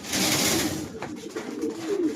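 Pigeons coo in soft, low, rolling calls, close and repeated, with a brief rustle in between and no talking.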